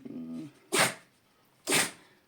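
Two sharp sneezes burst out about a second apart, close and loud in a quiet room, following a brief low voiced sound at the start.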